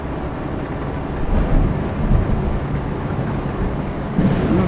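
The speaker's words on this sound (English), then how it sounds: "I wasn't expecting a storm, but we got one." Thunderstorm ambience in the truck-driving game Euro Truck Simulator 2: a continuous low rumble of thunder and rain, swelling in a few rolling surges.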